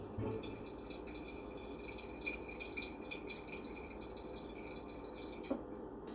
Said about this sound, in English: And you want to pour your mixture through the strainer.